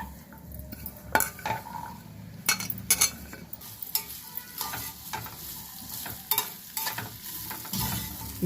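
Ingredients for mango-ginger pickle fry in a little oil in a pan, a low sizzle under irregular stirring, with a spoon clinking and scraping against the metal.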